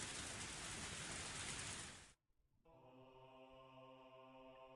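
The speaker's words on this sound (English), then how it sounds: "the rain is so loud" Steady, dense rain pours loudly in the Higurashi video game, then cuts off abruptly into a near-silent gap before a soft sustained tonal hum takes over.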